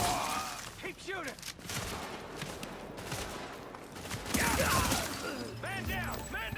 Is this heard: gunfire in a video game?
yes